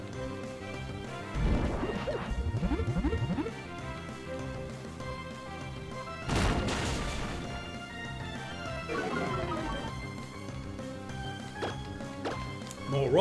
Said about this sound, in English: More rock smashing.